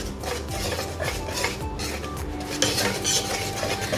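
Spoon stirring vanilla-flavoured bika ambon batter in a metal pot, with steady scraping and clinking against the sides, close and continuous over a low kitchen hum, no talking.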